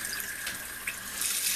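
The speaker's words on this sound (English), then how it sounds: "I've got it filling up with cold water" Cold tap water runs steadily into a kitchen sink being filled to wash collard greens, a continuous close hiss and splash with no talk.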